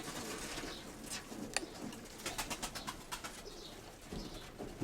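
Pigeons coo softly in soft, repeated calls, with faint rustling and fluttering around them.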